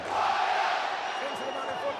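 A rugby league stadium crowd at Warrington versus St Helens roars and cheers steadily, a broad sustained wash of noise from many voices throughout, with commentary talk over it.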